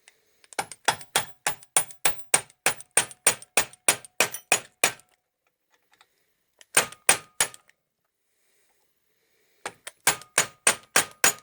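Rapid series of sharp metallic hammer blows on a steel drift, replacing a control arm pin on a 2000 Peugeot 406 2.0 HDi: about fifteen evenly spaced strikes, a pause, a short burst of three, then another quick run of hits.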